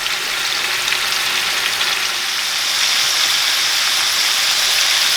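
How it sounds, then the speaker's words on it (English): Oxtails browning in a hot pan give off a loud, steady, hissing sizzle that stays even and close throughout with no talking. "So I'm browning the oxtails."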